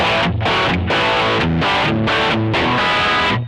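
An electric guitar runs through the stack drive distortion of a Boss OD200 pedal, voiced as a Marshall-style amp, playing a short run of chunky, saturated palm-muted chords and riffs. It is loud, close and heavily distorted, with no talk.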